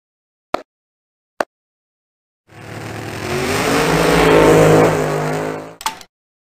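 A voice imitates a car driving by, giving a single continuous whooshing engine-like pass that swells and fades over about three seconds, preceded by two short clicks and followed by a brief burst.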